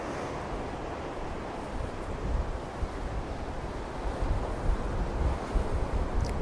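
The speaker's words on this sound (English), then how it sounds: "You can probably hear the breeze." Wind gusting steadily across the beach path at Glen Maye on the Isle of Man, a broad low roar with surf-like swells building in waves and buffeting the microphone, continuous with no voices.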